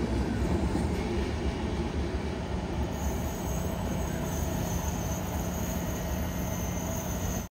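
Central Railway train with mixed coaches, including AC coaches, pulling into Kozhikode railway station on the Parasuram Express route, a steady loud rumble of rolling wagons with a high wheel squeal running throughout.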